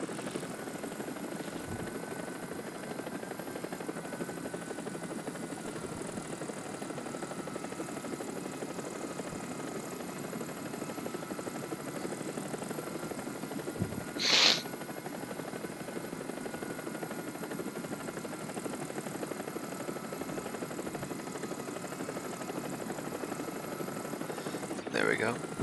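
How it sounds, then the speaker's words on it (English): A helicopter in the War Thunder combat game flies with a steady rotor and engine drone throughout, a constant mid-level whir with a brief sharp burst near the middle and another at the end. "Yeah, we got more helicopter support."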